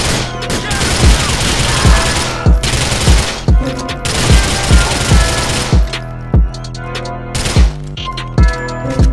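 Gunfire in the video game GTA 4, loud rapid automatic bursts and single shots in close succession, broken by brief pauses as the shooting thins out toward the end; no speech over it.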